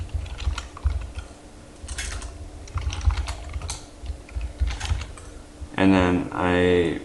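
Fingers tap out a folder name on a computer keyboard in quick irregular bursts of clicks, with a short stretch of speech near the end.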